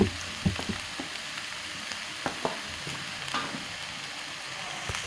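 Shredded cabbage and capsicum stir-fried in a pan for chow mein, a steady soft sizzle with a few sharp clanks and scrapes as the vegetables are tossed and mixed, close up and without any talk.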